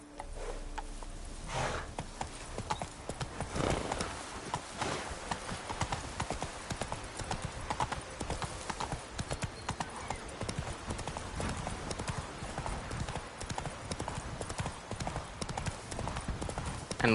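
Horse hooves clip-clop at a steady trot in The Witcher 3 video game, a continuous rhythmic beat at moderate level, with a brief spoken word near the start.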